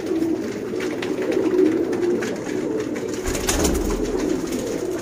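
Sialkoti 35-type pigeons, male and female, coo in soft repeated throaty calls nearby over a low, steady background hum.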